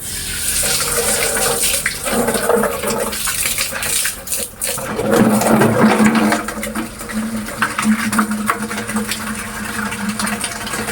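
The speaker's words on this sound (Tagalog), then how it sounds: "Buksan lang natin yung tubig guys." Water gushes steadily from a tap at a fish pond, a continuous splashing rush that swells louder midway and keeps running without pause.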